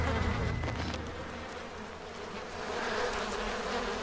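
Flies buzz in a continuous, droning hum close by in the horror video game Outlast 2, with the whine swelling and fading slightly over a low background rumble and no talking.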